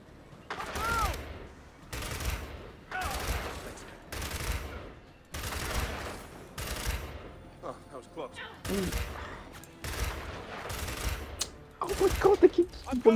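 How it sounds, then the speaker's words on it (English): Rapid sniper fire in the Gears 5 video game, a series of loud, evenly spaced cracking shots roughly every second, with a player's voice reacting in between. "It just kept sniping me, and I couldn't do anything."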